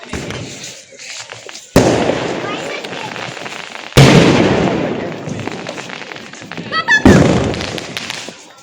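Firecrackers burst in three loud, sharp bangs spaced a few seconds apart, each followed by crackling and fading rumble, with people talking in between.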